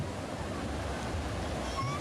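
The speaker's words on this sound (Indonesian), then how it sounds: "gelombang pantai selatan masih tinggi" Steady roar of high surf along the south coast, a continuous broadband wash of waves with wind noise and no distinct breaks.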